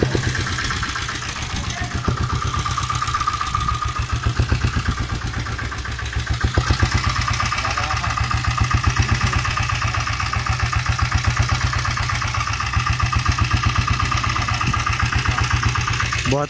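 Motorcycle engine idles with a steady, loud, throbbing putter of rapid regular pulses, close by, while someone talks over it.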